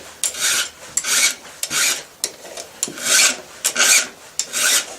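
A hand file rasps across a chainsaw chain in steady, evenly spaced strokes, about a dozen close scraping passes with short gaps between, with no voices.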